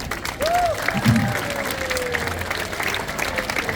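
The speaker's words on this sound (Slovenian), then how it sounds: "dajmo res en velik aplavz vsem skupaj tukaj zdaj" Applause from an audience at a community event in Ljutomer, a moderate, steady patter of clapping that runs throughout, with a brief whistle-like tone and faint background noise over it.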